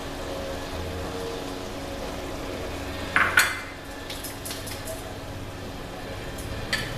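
A utensil scrapes and clinks in a pan as cayenne pepper and paprika are stirred into mince for a spaghetti Bolognese, soft steady scraping with one sharper clatter midway, no talking.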